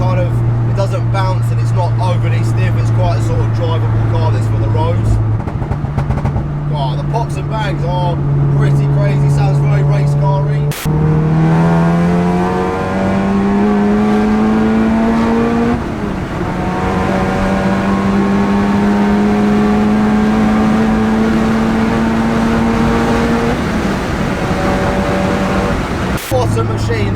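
A tuned 700 hp VW Golf R engine revs hard through several gears, each climb in pitch ending in a shift, loud and close throughout with a couple of sharp pops.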